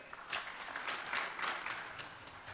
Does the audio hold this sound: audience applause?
yes